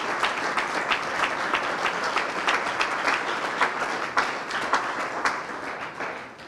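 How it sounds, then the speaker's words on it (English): Church congregation applauding the youth group, a sustained, fairly distant patter of many hands clapping, steady and moderately loud, fading slightly at the close. "let's give the youth group a hand clap for all their investment"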